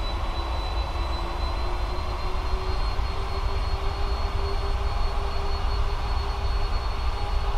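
An aircraft engine in a flight simulator game hums in a steady, loud drone with a faint rising whine as it speeds up, continuous throughout with no voices.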